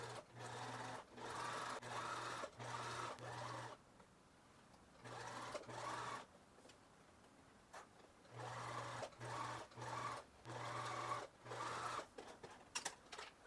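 Sewing machine stitching a curved seam on men's rayon shorts, running in quick repeated bursts of steady mechanical hum separated by short pauses, close and quiet, with no talking.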